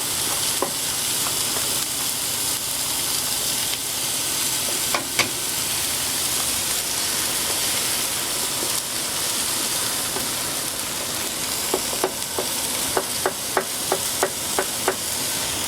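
An egg fries on a Blackstone portable griddle with a steady, bright sizzle that holds through the whole stretch, punctuated near the end by a quick series of sharp spatula taps and scrapes.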